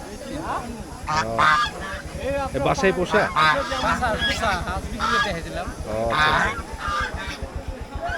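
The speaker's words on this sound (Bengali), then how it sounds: "এই তিনটা হাঁস আপনার?" Domestic ducks brought to a rainy village duck market in Rajshahi give repeated honking calls close by, mixed with people talking at the stall.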